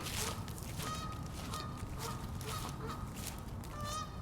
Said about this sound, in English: There's geese in the field over there.